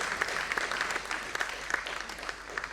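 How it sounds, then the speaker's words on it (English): Steady applause from an audience at an Indian classical music performance, a dense patter of many hands clapping throughout at moderate volume. "A thunderous applause for these lovely ladies."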